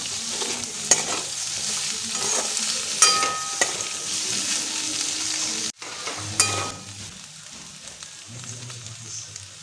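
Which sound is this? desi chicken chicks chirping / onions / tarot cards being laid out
onions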